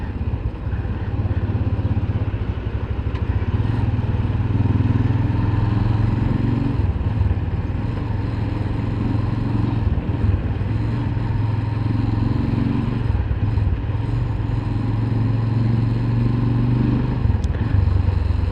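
A motorcycle engine hums steadily while riding, a constant close drone with slight shifts in pitch and road noise, no voices.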